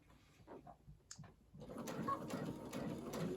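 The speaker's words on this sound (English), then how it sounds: "And then you just continue sewing all the way around." A sewing machine stitching quilt binding: faint, scattered clicks at first, then a steady low mechanical whir of continuous stitching, quiet and close, with no talk.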